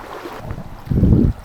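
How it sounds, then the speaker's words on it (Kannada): Water rushes with great force near a waterfall in the Malenadu hills, heard as a close, rough roar with a heavy rumbling surge building toward the end. "ನೀರು ಫೋರ್ಸ್ ಭಯಂಕರ ಇದೆ"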